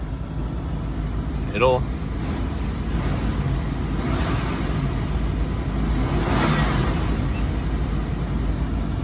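A supercharged 2001 Nissan Xterra engine, originally naturally aspirated, runs at a steady low rumble throughout, moderately loud and close, with no clear revving.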